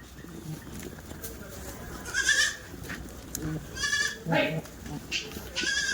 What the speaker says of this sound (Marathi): आता एवढ्या पूर्ण पट्ट्यामध्ये शेळ्या चरत आहेत.